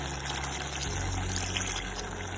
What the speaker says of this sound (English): We're going to add half more cup of water.